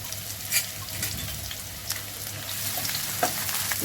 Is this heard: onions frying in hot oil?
yes